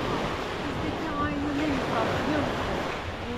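Sea waves wash onto a resort beach in Kemer, Turkey, a steady close surf roar with faint voices and children's chatter mixed in underneath.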